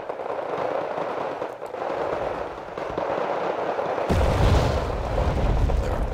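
Artillery fire in the battle game Wargame: Red Dragon, dull distant booms and rumbling impacts over a constant noisy battle bed, with a heavier low rumble swelling toward the end.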